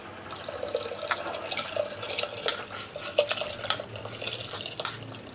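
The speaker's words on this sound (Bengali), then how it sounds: "ভিজিয়ে রাখা চালটা আমি হাঁড়ির মধ্যে দিয়ে দিলাম।" Soaked rice tipped into a pot of boiling water spiced with cinnamon, cloves, bay leaves and cardamom for mutton biryani; light clinks of metal and soft watery splashes and stirring, fairly quiet, with no talking.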